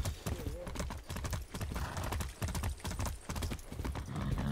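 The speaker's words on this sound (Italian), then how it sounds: "invece no, siamo ritornati a cavallo" Horse hooves gallop in the Far Cry 6 video game, a rapid, even clip-clop rhythm running throughout, with someone talking over the hoofbeats.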